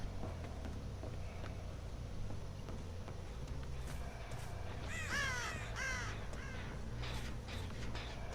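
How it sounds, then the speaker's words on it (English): Crows caw in the horror video game Dead by Daylight, a few harsh caws in the middle over a steady low ambient game drone, with no talk. "Saw those crows come back, so I thought there might be someone hiding there"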